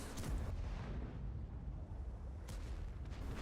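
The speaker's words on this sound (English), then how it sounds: "we're throwing artillery down on these guys" Artillery fire in a tank battle game, dense rumbling booms and distant blasts forming a continuous heavy low roar with a sharper burst near the end.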